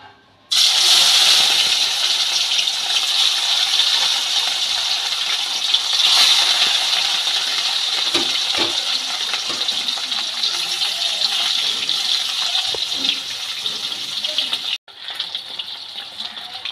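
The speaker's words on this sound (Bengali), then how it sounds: "এবার মাছগুলোকে আমি একটা একটা করে ভেজে নেব।" Rohu fish pieces sizzle as they go into hot mustard oil in a kadai, a loud, steady hissing crackle that starts abruptly and holds evenly, with a brief break near the end.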